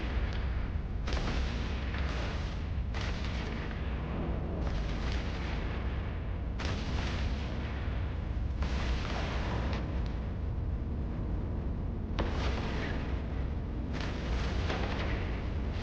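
Missile launches and explosions in a space battle in the game EVE Online, a steady stream of dense rumbling blasts with sharp bursts recurring every second or two.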